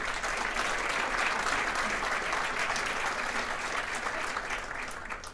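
An audience at a regional political address with Congresswoman Maxine Waters and Ted Lieu breaks into sustained, even applause that fades slightly toward the end, with no talking over it.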